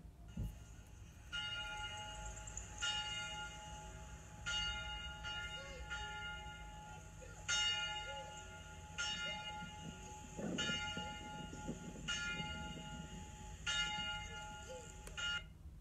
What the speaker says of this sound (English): we listen as ever to the church bells to begin our service